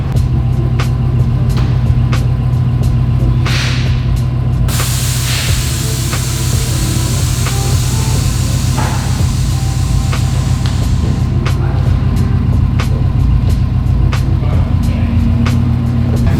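A Subaru's air suspension airs out with a loud, sustained hiss that runs for several seconds over the steady hum of the car nearby.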